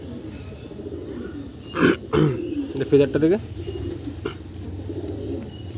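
Andhra Fatka pigeons with trimmed feathers coo in a loft, with a few soft, close calls rising over steady background noise while someone talks nearby.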